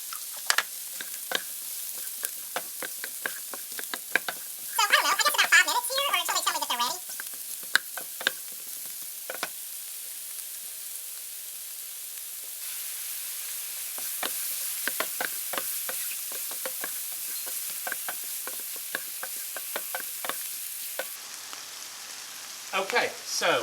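Sliced mushrooms sizzle steadily in a hot pan with pepper, with bursts of stirring and scraping from a spoon, up close and alone at a moderate level.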